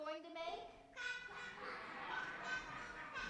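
A group of people imitating duck quacks at a Sunday service, several voices honking and quacking together in short nasal bursts, fairly near and moderately loud.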